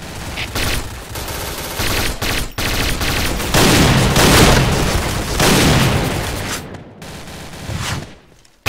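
Loud bursts of rifle and machine-gun fire mixed with booming grenade explosions in the online shooter Point Blank, rapid overlapping shots with sharp cracks and a few short pauses throughout.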